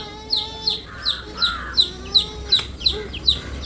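Chicken chicks chirp in a steady series of about ten high, bright peeps spaced evenly, close to the microphone, with faint background sounds underneath.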